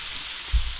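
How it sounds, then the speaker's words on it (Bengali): Spice masala for samosa filling frying in a pan, a continuous close sizzle with a brief soft low thump partway through. "মশলাটা কষিয়ে নিয়ে এটাকে ভালোভাবে কষিয়ে রান্না করে নেব"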